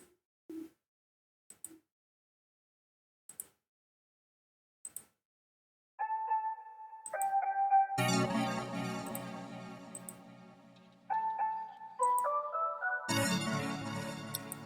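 Bell-like synth tones in a bedroom pop remake, first faint sparse pings alone, then sustained melodic bell notes entering with fuller backing and chords, bright and moderately loud.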